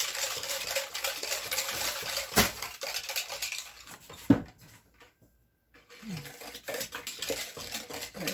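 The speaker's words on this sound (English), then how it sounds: "now let's whisk it up" Muffin batter with vanilla and sugar for zucchini and carrot muffins being whisked in a bowl, a busy, close clatter of whisk against the bowl that stops briefly and then resumes.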